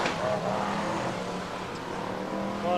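BriSCA Formula 1 stock cars race at Skegness in 1994, a dense continuous engine roar from several cars at once with rising revs, heard from trackside.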